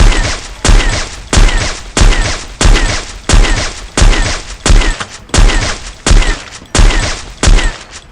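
Repeated AWM sniper rifle shots in a video game, about ten loud booming reports at a steady one-per-second rhythm, each with a sharp attack and short decaying tail, with no voices.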